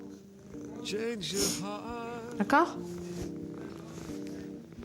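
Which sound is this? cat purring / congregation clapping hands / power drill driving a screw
cat purring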